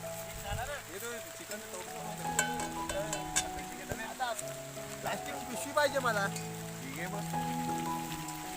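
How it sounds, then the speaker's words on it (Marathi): Heavy rain patters on a surface in a farm field while people talk and call out nearby, voices rising over the steady downpour. "जोरात आला पाऊस"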